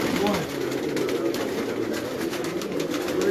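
Paired pigeons kept by a Karachi pigeon fancier coo in a steady low murmur at close range, with people talking and moving about nearby.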